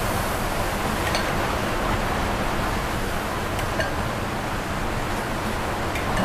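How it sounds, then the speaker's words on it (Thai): Heavy rain comes down during outdoor cooking of a Thai bamboo-shoot curry, making a loud, dense, unbroken roar of falling water throughout, with no speech on top. "ฝนกำลังตกนะครับเพื่อน"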